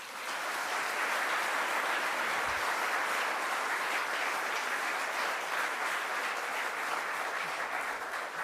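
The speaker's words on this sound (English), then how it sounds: "Can we have a round of applause for him?" Sustained audience applause at a university ceremony, a dense even roar of many hands clapping that holds steady and loud for the whole stretch with no voices over it.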